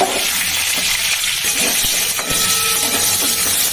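Paneer pieces rubbed with turmeric fry lightly in a pan, giving a close, continuous sizzle with faint stirring clicks and the odd scrape throughout.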